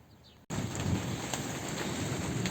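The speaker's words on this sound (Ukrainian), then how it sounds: "Отак у нас гримить, блискає. Дощ розпочався." Rain suddenly begins during a thunderstorm over a garden, going from quiet to a steady, dense hiss of falling drops with a faint low rumble underneath, and no voices are heard.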